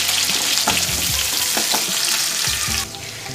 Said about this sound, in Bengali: এই পেঁয়াজগুলোকে এবার ভালো করে আমি ভাজবো।